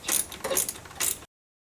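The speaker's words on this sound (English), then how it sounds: "We're going to loosen and remove the two 10mm bolts." Ratchet clicks from loosening 10mm bolts on a 1993-1997 Nissan Altima cooling fan come in quick close bursts, lasting just over a second.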